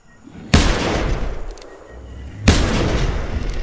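Two heavy, booming rifle shots from a hunting game, The Hunter Primal, spaced about two seconds apart, each a sharp loud crack with a long rumbling tail, fired close with no talk.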